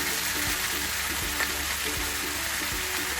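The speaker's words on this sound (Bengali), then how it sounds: "ঝিঙে আর আলু ছেড়ে দিয়েছি। এবারে একটু নেড়ে নিচ্ছি।" Ridge gourd and potato pieces fry in a pan with a steady loud sizzle, broken by soft rhythmic knocks as a spatula stirs them, with no talking.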